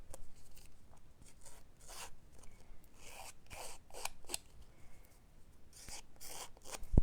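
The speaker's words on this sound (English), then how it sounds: "I'm going to distress around the edges with my snips" Metal snips distress the edges of a paper card for a stamped card, making a quick series of crisp snipping and scraping cuts in irregular bursts, close and fairly quiet, with no talking.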